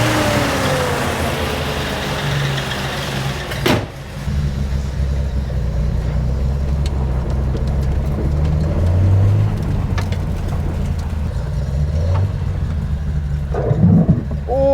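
A home-built Datsun 240Z engine idles after tuning with a steady low rumble and a few clicks, and a voice speaks briefly near the end.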